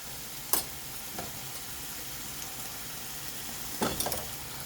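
Garlic fries in hot oil with a pinch of turmeric and chili, a steady soft sizzle broken by a few brief scraping stirs near the start and again toward the end.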